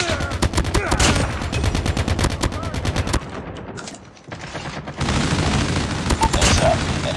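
Automatic gunfire in Call of Duty Mobile from an ICR-1 rifle: rapid, loud bursts of shots close by, broken by a short lull and then more firing, with faint game voices mixed in.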